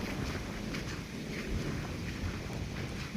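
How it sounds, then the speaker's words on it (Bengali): Wind blowing outdoors in a village after rain, a steady rumbling gust buffeting the microphone with no voices. "হাওয়া চলতেছে"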